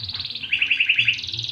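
A canary, recovering from a nerve illness, chirps in a rapid, high, trilling run of notes, close and clear, with short repeated pulses throughout.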